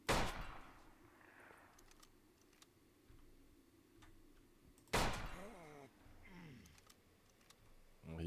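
Sharp distant gunshots in a shooter video game, two loud cracks several seconds apart with fainter tapping between and someone speaking after the second shot.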